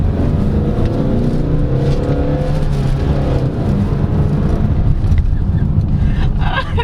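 Engine and road noise from a 2023 Hyundai Staria Cargo van with a 6-speed manual, a steady drone heard from inside the cab while driving, with someone talking over it.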